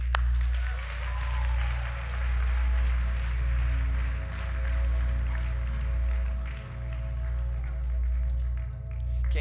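Church congregation at a revival service claps along, a sustained steady wash of applause under loud, booming low music throughout.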